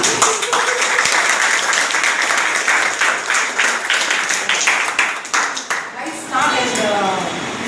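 Students at a college Teachers Day celebration clap loudly and continuously, dense applause filling the space with a few louder bursts, voices mingling underneath and a cheer rising near the end.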